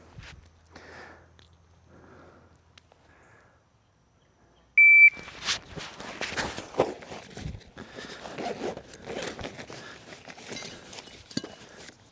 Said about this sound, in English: I'm going to push that button. And when the beep goes off